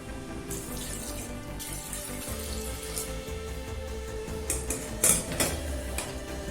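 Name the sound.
water being poured into pressure cooker with carrots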